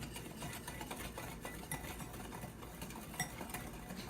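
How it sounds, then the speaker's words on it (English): Eclair dough ingredients, including a pinch of salt, whisked together in a saucepan on the stove: a steady, close scraping and clinking of whisk against the pan, continuous for a few seconds with no talking. "Whisk this together until it's all incorporated."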